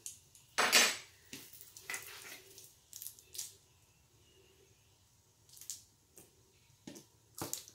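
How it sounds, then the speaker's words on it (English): A metal baking pan of BBQ spareribs scrapes and clanks against the oven rack as it slides back into the oven, with a sharp metallic rattle and several lighter knocks spread over the following seconds, close and without talk. "And we're going to slide this back in the oven."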